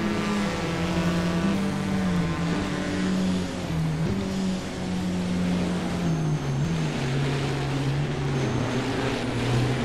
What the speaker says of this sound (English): Yeah, I could recognize the exhaust sound.